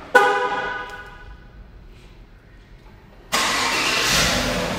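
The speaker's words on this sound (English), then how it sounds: "another cool feature that this truck offers is that it does come with remote start" A 2018 GMC Sierra truck started by remote start: a faint tone and a quiet lull, then the engine catches with a sudden loud, steady roar close by and settles into a running idle.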